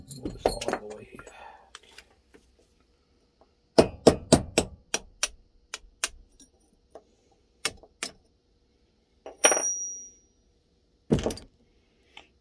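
A punch is hammered against a jammed part on a Suzuki DS100 motorcycle engine, giving sharp metallic strikes in quick clusters and single blows, with some handling clatter and a brief voice at the start.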